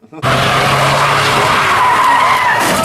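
A Mustang's tires skid loudly as the car spins out at a car meet, one continuous screeching squeal that starts abruptly and holds steady near and loud.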